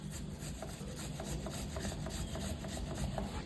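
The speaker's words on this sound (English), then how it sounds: "we will be cutting it so that we can grate it to be freshly grated ginger root" Fresh ginger root is scraped across a grater in quick, rhythmic rasping strokes, close by and fairly soft, with no voices.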